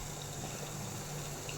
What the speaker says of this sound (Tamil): தண்ணி பாருங்கள் எவ்வளோ தலைன்னு கொதிக்குதுன்னு